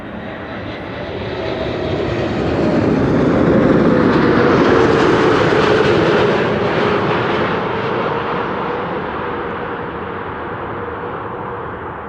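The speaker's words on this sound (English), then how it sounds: "How about those reversers?" An airliner landing at Amsterdam Schiphol on a frosty day unleashes a loud thrust-reverser roar that builds over a few seconds, holds strongly, then slowly tapers, with no voices during it.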